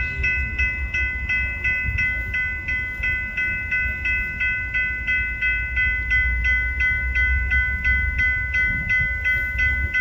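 A northbound sand train led by a CP locomotive rolls past in Bellevue, with a steady low rumble and a regular, repeating ringing tone that pulses throughout, loud and close.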